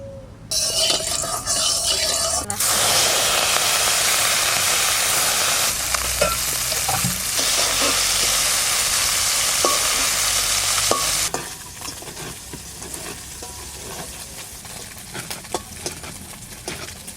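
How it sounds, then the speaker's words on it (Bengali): Taro curry with small fish cooking in a pan, a loud close sizzle that holds for about eleven seconds before dropping to a quieter simmer with faint clinks, no talk over it. "ছোট ছোট ময়ে মাছ, এই মাছ কটা দিয়ে আমি এই কচুটা রান্না করব।"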